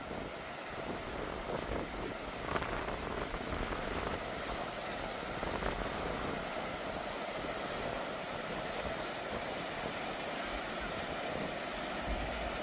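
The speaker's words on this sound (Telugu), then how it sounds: "ఎంత ఎంత ఫోర్స్తో కొడుతున్నాయో వాటర్." Steady, loud rushing water from a river at Yellowstone, a continuous broadband roar of churning, crashing flow with no breaks throughout.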